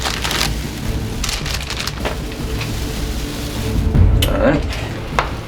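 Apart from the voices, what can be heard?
butter melting and sizzling in pan for Rice Krispie treat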